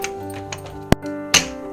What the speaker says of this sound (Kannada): ಕುಕ್ಕರ್ ಮುಚ್ತಾ ಇದ್ದೀನಿ.